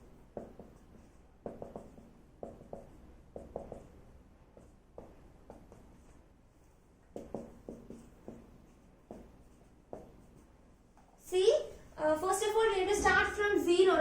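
Pen or chalk strokes sketch a number line for a seventh-grade maths lesson, producing soft, close, rhythmic scratching taps in short bursts, then a person begins talking over the quiet.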